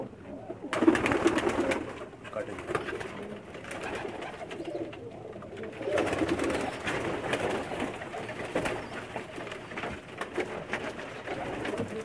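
Pakistani pigeons on a rooftop coo repeatedly in soft, throaty bursts, fairly close, with a steady background hum and occasional faint rustling.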